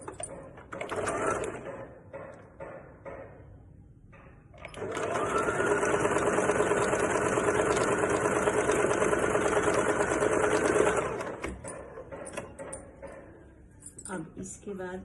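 Sewing machine stitching lining fabric onto a blouse button strip, a sustained steady whir lasting about six seconds, with someone speaking before and after the run.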